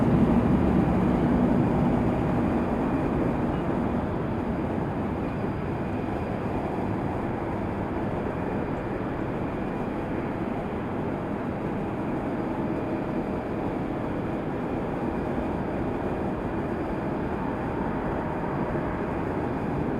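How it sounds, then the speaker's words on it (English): An Alaska Airlines Boeing 737 MAX 9 moves at Raleigh-Durham International Airport, giving a steady, broad jet engine roar that sits at a middle distance and stays even for the whole stretch. "Alaska Airlines and the MAX 9 getting a move on, headed back to"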